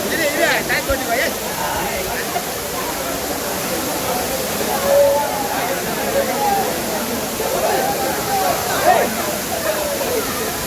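Water rushing at Kutralam waterfall, a steady broad roar filling the scene throughout, with crowd voices and chatter mixed in beneath it.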